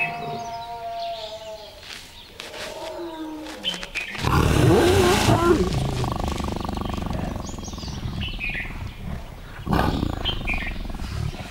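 Wild tigers roaring and snarling during mating, with loud close growls swelling into a sustained roar and another burst near the end, over outdoor background sound.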